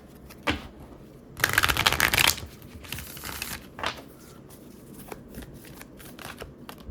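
Oracle cards being shuffled by hand, with crisp papery riffling in several bursts, one long loud flurry near the start and shorter ones after, close to the listener with no talking.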